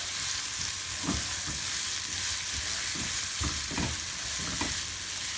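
Cooked potato with blender seasoning sizzles and fries in a hot pot while being stirred, a steady broadband hiss punctuated by several scraping stir strokes, close and with no talking.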